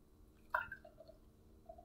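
Golden Monkey beer pours into a glass, a brief soft splash and gurgle of liquid heard close and faint, followed by a few quiet fizzing drips.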